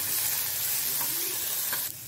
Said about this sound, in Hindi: चलाते हुए इनको 5 मिनट के लिए रोस्ट करें